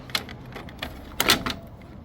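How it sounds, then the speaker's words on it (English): Screws being worked loose from the control board of an LG front-load washing machine that won't start: a few short, close metallic clicks and ticks, with a denser cluster of scraping clicks near the end. "Now I am going to remove the control board screws."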